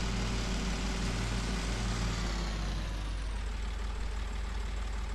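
A tractor engine idles in a farmyard in a farming simulator game, a steady low drone with a faint whine that eases slightly toward the end, no speech.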